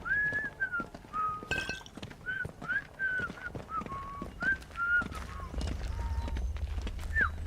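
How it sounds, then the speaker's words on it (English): Video game horse hooves clip-clop in an uneven gait while a tuneful whistled melody plays over them, with a low rumble coming in toward the end. "Sounds like a horse"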